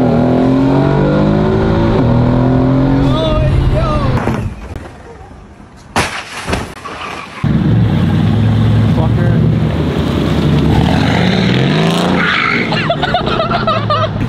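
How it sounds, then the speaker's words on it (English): A car engine revs hard in loud bursts, with people talking and shouting excitedly over it before and after the revving. "Yeah, rev it, bro. Rev it real quick."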